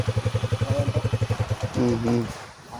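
A trail motorcycle engine idles with a steady, close pulsing throb, then a voice speaks over it near the end.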